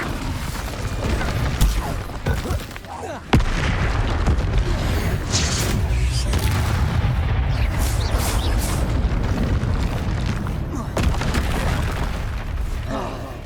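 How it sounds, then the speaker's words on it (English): Spell blasts and explosions from combat against two trolls in Hogwarts Legacy, a dense, continuous roar of booms and bursts with a sharp hit near the start, layered under game sounds and voices. "Confringo! Protego! Incendio!"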